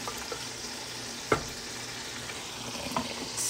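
Miswa noodles with patola and sardines being stirred in a pot, a steady low simmering hiss with a couple of soft spoon knocks against the pot, no talking.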